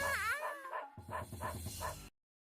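A dog in a Vampire Savior fighting-game stage gives a few whining, yelping barks in quick succession, close and clear, with no talk over it.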